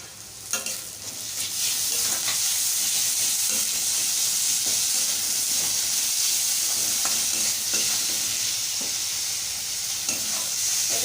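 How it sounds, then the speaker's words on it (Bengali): Ginger garlic paste sizzles and fries in a small amount of oil for a tangra fish curry, a steady close hiss with occasional stirring scrapes and no talk. "এরপর দিয়ে দেবো আদা রসুন বাটা,"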